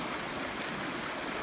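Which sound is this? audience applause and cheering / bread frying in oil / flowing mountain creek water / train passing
flowing mountain creek water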